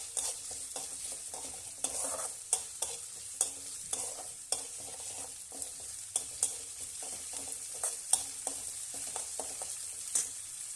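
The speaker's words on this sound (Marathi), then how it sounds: "हे छान मिक्स करायचं आणि परतून घ्यायचं." Onion with crushed ginger and garlic sizzles steadily in a hot pan while a spoon scrapes and stirs at a regular pace, with small clinks against the pan over a continuous fry hiss, no talk.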